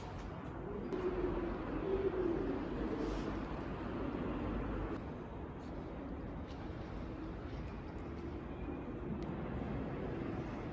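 Pigeons coo softly inside a nearly deserted shopping mall with most shops closed, the faint calls drifting over a steady low ambient hum with no one talking.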